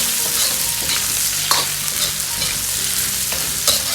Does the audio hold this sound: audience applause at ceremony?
no